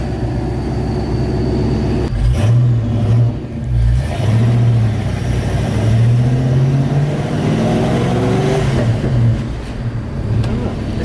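A Fox-body Ford Mustang V8 on open headers idles with a deep, rough rumble, rising in a few revs that swell loud and then settle back to idle.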